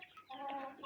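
Hen and chicks clucking close by on a farm, a short burst of soft fowl clucking and cheeping lasting under a second, fairly faint.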